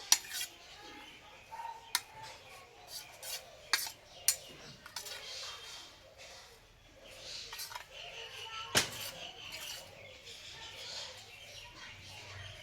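A spoon mixes onion, salt and other ingredients in a bowl. Quiet and close, with intermittent sharp clinks and scrapes against the bowl separated by brief pauses.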